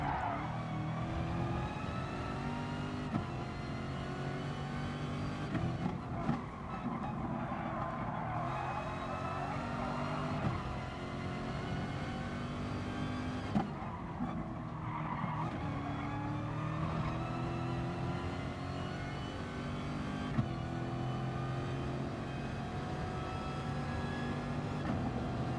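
A Mazda MX-5 races in Gran Turismo Sport, its engine droning steadily and loudly with layered whining tones that rise and dip through gear changes over a continuous run, with no talking.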